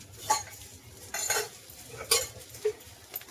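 A spoon scrapes and clinks in a pan while stirring a potato vegetable dish for fasting, several short metallic strokes at uneven intervals over a soft background, close and fairly clear, with no voices.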